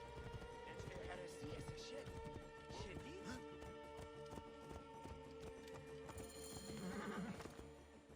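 A horse clip-clops and whinnies in the video game Assassin's Creed Origins, with steady hoofbeats and a neigh mixed under ongoing game sounds and someone talking.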